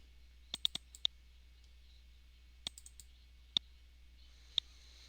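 A computer mouse clicks in a quiet room: a quick burst of three clicks, then a pause, then several more sharp, isolated clicks spaced apart, close and distinct.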